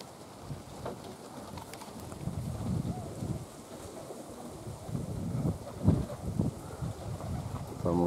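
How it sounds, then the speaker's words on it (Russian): Very strong wind blowing at an outdoor flying spot, a steady broadband roar with gusting surges that swell and fade, buffeting the microphone throughout. "Вот это ветрюган."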